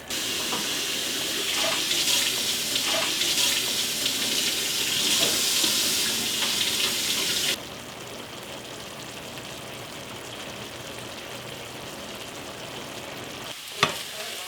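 Tap water runs into a pot for boiling potatoes, a loud steady gush with splashy rattling that fills the first half, then stops abruptly and leaves a quiet kitchen with a single sharp clink near the end.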